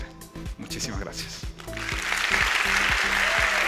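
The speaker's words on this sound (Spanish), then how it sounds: "Un fuerte aplauso es el que has recibido." Applause from a conference audience swells up and builds into sustained clapping after a speaker's talk, while a voice briefly talks over the start.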